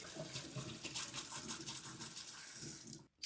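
Water runs steadily from a tap onto a part of a PUKANIUM bidet toilet seat for about three seconds, a close, constant splashing rush that cuts off abruptly at the end.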